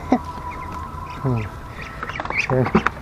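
Several ducks quack in short bursts close by, mixed with other bird calls and a steady tone in the background.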